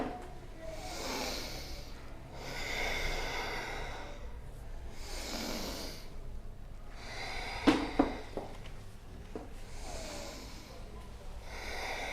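A person breathes in and out in a steady rhythm during exercises with a gymnastic stick. Several soft, airy breaths come close up, with a few sharp clicks near the middle.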